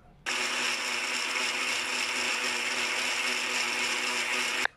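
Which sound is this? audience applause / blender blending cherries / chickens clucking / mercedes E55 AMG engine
blender blending cherries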